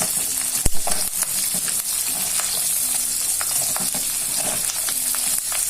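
Thinly sliced green chillies fry in a pan, a loud steady sizzle with occasional stirring clatter and one sharp knock near the start, with no voices.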